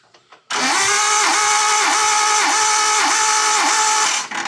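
A Nissan R32 engine with its spark plugs out cranks over on the starter during a compression test, giving a loud, steady whine that pulses in a slow, even rhythm for about four seconds before cutting off.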